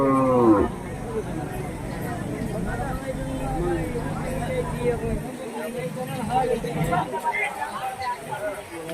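A bull lets out a loud, drawn-out moo at the start at the Hirapur market, then people chatter and call out over a busy crowd background.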